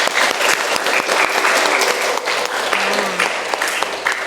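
Students in a classroom clap for the top three quiz scorers, dense and lively applause that fills the room continuously for several seconds, with faint voices mixed into the clatter.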